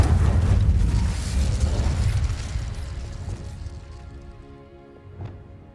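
Incendio fire spell cast in Hogwarts Legacy, a loud rumbling whoosh of flame that bursts at once and slowly fades, followed by a faint mechanical click.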